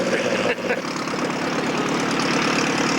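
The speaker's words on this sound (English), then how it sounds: "When you take off, that sound like a 500 horsepower." Small light aircraft engine at takeoff power, a 1986 KR homebuilt plane, a continuous loud droning roar with a brief dip near the start, no speech.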